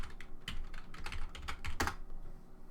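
Rapid keystrokes on a computer keyboard entering a file name at a Kali Linux terminal, a steady patter of clicks with one sharper strike near the end, close and alone with no talk.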